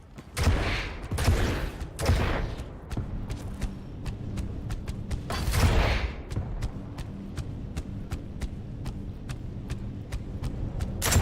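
Weapon fire in a Quake match, including railgun shots: a few heavy blasts early and midway, then a long run of sharp, evenly spaced shots, with no talking.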